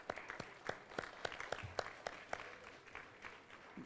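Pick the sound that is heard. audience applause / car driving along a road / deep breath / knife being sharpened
audience applause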